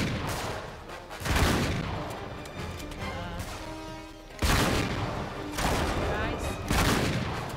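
Repeated loud shotgun blasts and crashing gunfire boom through a firefight in the video game Uncharted 3: Drake's Deception, with bursts roughly every few seconds as a player speaks over the action.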